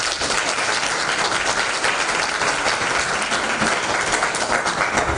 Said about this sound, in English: I just need a big round of applause for these students who are here for making it even to this level